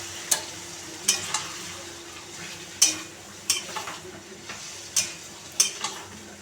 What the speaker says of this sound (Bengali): জলটা আছে, জলটা আমি দিয়ে দেব।